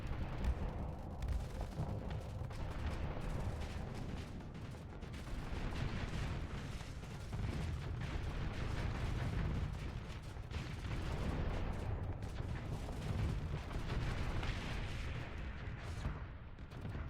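Continuous heavy barrage of weapons fire from ships in the space combat game Starsector, a dense rumbling roar of overlapping shots and booms that stays loud and steady throughout with no talking.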